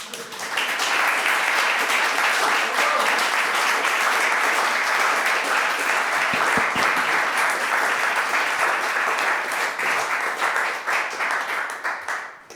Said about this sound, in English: give this young gentleman an applause